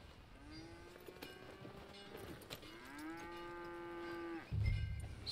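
Cattle in the video game Red Dead Redemption 2 give two long, drawn-out moos, near and clear over a low outdoor ambience, followed by a dull thump.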